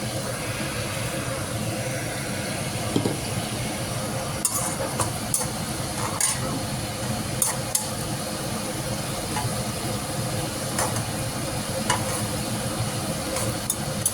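Mint leaves and cardamom sautéing in plenty of oil in a pan, a steady close sizzle and crackle with occasional sharper pops, and no voices.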